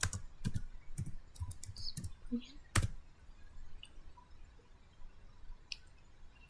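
Keys clatter on a computer keyboard as a router command is typed, a quick burst of distinct clicks followed by a few sparser taps, close and fairly quiet, with a voice talking in between.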